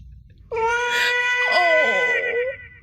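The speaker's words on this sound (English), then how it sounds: "What is making you meow like that?" A cat meows loudly in a long, drawn-out, wavering call, like singing, with a sustained rising and falling tone held for about two seconds, close and alone against a quiet background.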